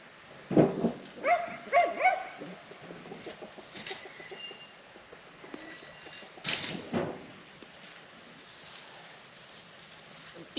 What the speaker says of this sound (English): Well, that's Lola barking